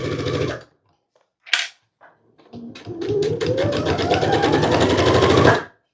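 A sewing machine stitching a fabric garbage bag for a vehicle, opening with a short burst, then quiet clicks and pauses before a long steady run of rapid stitching with the motor pitch climbing, close and clear.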